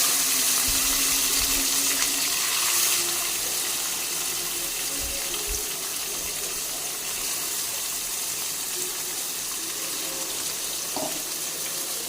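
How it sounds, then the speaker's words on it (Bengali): Shrimp drop into hot oil with cumin seeds already tempering, making a steady, dense frying sizzle and hiss that stays loud and even throughout, with a few soft knocks near the start. "এবার চিংড়ি মাছটা দিয়ে দিচ্ছি তেলে"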